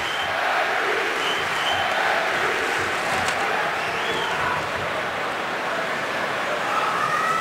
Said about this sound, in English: Chants from the crowd.